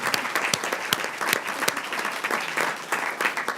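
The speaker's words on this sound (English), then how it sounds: "I think we should give them a big round of applause" A room at a Walnut Creek city council meeting breaks into applause, a dense patter of many hands clapping at close range for a few seconds with no talking.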